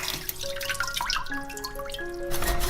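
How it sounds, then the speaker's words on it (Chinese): Water runs and drips from a tap while a piece of fish belly is rinsed in a kitchen sink, a steady close splashing and trickle with brief tonal ringing, with no talking. "今天买了块鱼腩，先把它清洗干净"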